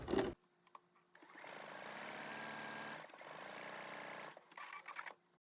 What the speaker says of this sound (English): And I'm going to sew also 1/4 inch stitch on there.